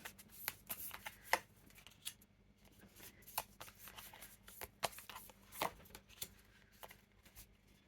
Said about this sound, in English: I'll just pull the rest of the cards out now